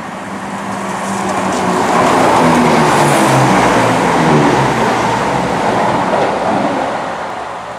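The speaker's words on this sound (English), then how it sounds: "There's a Pendolino at Markinch Station." A Pendolino train runs through Markinch railway station, a loud rushing roar of wheels and carriages that swells as it passes close by and then slowly fades.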